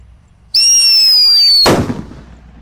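A Happy Power 3 firecracker, lit for Eid al-Adha celebrations, shrieks with a loud, high whistle for about a second. A single booming blast follows and then fades away.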